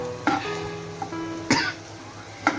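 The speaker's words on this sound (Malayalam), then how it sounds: "ചുമ വരുന്നു." Someone nearby coughs three times in sharp bursts while curry leaves and garlic fry in a pan for a spicy fish pickle, with a faint sizzle underneath.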